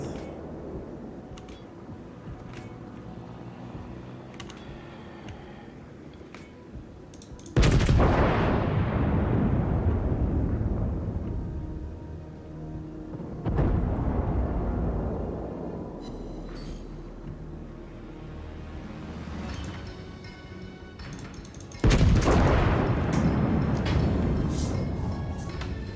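Heavy naval guns of the Tirpitz battleship firing in World of Warships, three big booming salvos spaced several seconds apart, each rolling out into a long rumbling decay under quieter battle ambience.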